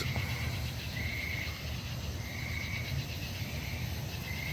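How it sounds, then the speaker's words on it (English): Outdoors at night, a frog croaks in a faint, pulsing rhythm over a steady chorus of insects. "I hear a frog"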